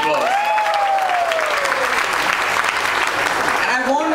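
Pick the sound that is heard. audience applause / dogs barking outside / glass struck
audience applause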